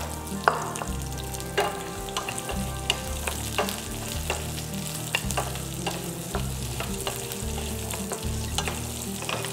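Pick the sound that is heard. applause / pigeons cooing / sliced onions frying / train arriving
sliced onions frying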